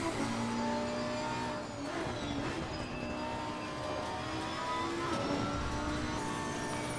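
Race car engine in Assetto Corsa Competizione during an online race, a loud continuous whine that rises and falls with gear changes, alongside faint tire noise and no talking.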